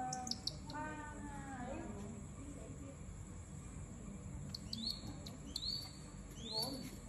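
Rescued wild bird chirping after release outdoors, with short bright chirps scattered across the clip and a few sharper calls near the end, over steady background noise.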